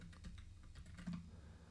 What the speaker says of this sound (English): Let me type in this.